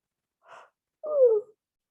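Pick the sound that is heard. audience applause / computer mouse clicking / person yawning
person yawning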